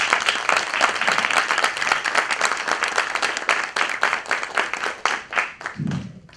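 Loud, dense applause from a crowd welcoming attendees to a training program, a steady wash of many hands clapping close by that thins into separate claps near the end before a brief low sound.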